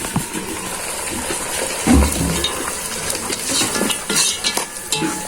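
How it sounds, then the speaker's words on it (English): Mutton biryani simmering in a covered pot over an outdoor village fire, with close, steady bubbling and sizzling punctuated by clinks of a lid or utensil and stirring sounds. "Cover and let it simmer."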